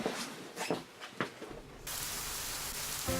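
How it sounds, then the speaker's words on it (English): An artificial rain effect sets in partway through as a steady, dense hiss of falling water that stays even and loud to the end, replacing an earlier softer outdoor wash broken by a few faint taps. "So I added the fake rain in just for effect"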